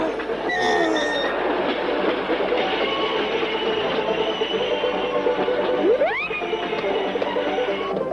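A cartoon train rolls along the rails with a steady rumbling clatter, loud and close, and a brief rising wheel squeal cuts through near the end.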